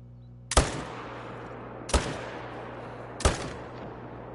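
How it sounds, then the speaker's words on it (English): Three loud gunshots from a hunting video game, evenly spaced about a second and a half apart, each a sharp crack with a short decaying tail over a low steady hum. "I need to shoot him again."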